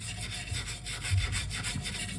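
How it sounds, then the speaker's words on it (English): A sander works over wooden floor battens during a van build, giving a steady, close rasping grind that runs without a break and with no voices. "Still getting down there though with the old sander and this."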